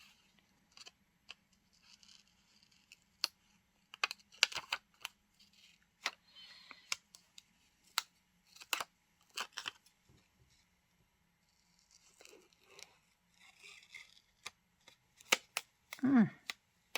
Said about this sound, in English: I'll just cut into this a little bit.